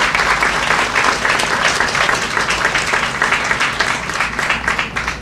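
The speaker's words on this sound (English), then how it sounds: "Can we give him a round of applause, please?" Sustained audience applause at an outdoor groundbreaking ceremony for a town square at Suitland Federal Center, dense steady clapping from a crowd filling the whole stretch without a break.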